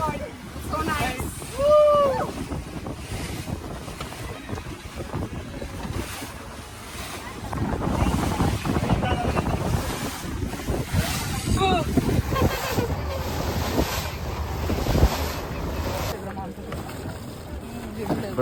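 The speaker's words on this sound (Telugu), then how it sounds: "వాటర్ ఏమో మంచి అలలో ఉంటాయి" Sea waves and gusting wind buffet a boat on a short ride to Ross Island in the Andaman Islands, a steady, loud wash of water and wind noise over the whole stretch, with brief voices near the start.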